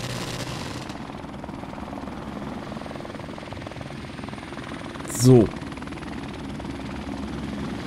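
Helicopter rotor chop from Call of Duty: Modern Warfare Remastered thrums steadily at a moderate distance, with a brief burst of a louder effect midway and a single spoken word over it.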